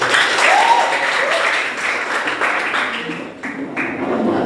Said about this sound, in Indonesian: silakan dulu tepuk tangan untuk semua